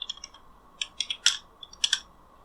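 Brisk keyboard typing on a computer, a short run of crisp close key clicks in small irregular clusters with a couple of louder strikes near the end, no voices.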